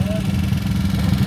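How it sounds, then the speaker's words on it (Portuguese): A trail motorcycle engine idles steadily nearby with a low, continuous rumble, while voices talk over it throughout. "Tudo de moto de trilha."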